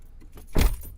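A brief jangle of keys being picked up, a single short metallic burst in the middle against a quiet background.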